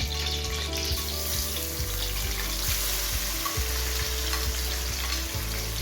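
A large onion sizzles loudly in hot oil, a steady crackling fry with a low rhythmic pulsing beneath it and faint clinks from stirring.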